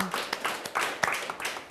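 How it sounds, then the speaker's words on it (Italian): Scattered clapping for staff members at an Italian television show, a light, uneven patter of hands with sharp individual claps, moderately distant, with no voices over it. "facciamo un applauso a questi collaboratori che voi conoscete benissimo ragazzi"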